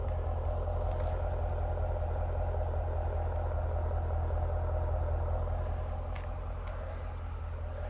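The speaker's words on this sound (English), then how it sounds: "So let's get a listen to this exhaust." A 2011 Dodge Challenger SRT8 with Mopar-branded dual exhaust, twin exits on each side, idles steadily with a deep, continuous low rumble held close and loud throughout.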